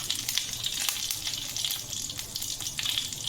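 Dried chili, bay leaf and panch phoron hit hot mustard oil in a pan, producing a steady bright crackle and sizzle with small pops, close and continuous, no voices.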